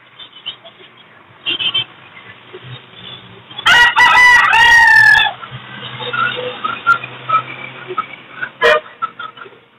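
Golden Heavy Buff chickens at an open-air bird market crow loudly in one long, wavering call midway through, with other bird calls, clucks and a short honk-like burst over steady crowd murmur.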